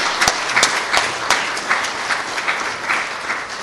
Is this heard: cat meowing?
no